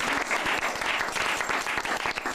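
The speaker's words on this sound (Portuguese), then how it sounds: "Uma salva de palmas para Jesus." A church congregation breaks into sustained applause for Jesus during a Portuguese-language sermon, dense rapid hand claps filling the room loudly and evenly from start to finish.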